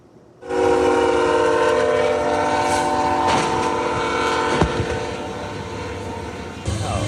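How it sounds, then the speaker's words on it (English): A Union Pacific train sounds a loud, sustained horn while rolling toward a collision with an 18-wheeler loaded with vehicles, with a rumbling rail roar and sharp bangs of impact midway. "State and federal agencies are investigating a crash involving a Union Pacific train and an 18-wheeler."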